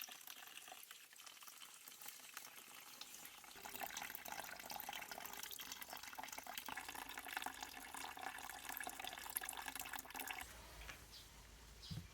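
Homemade cherry wine runs through a siphon tube into a container for tasting, a steady close liquid trickle and pour that grows fuller after a few seconds and continues without talk.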